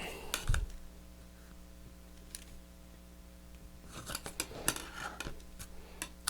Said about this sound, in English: Now you want to cut this top part first, because otherwise your blade gets sticky if you cut through the adhesive.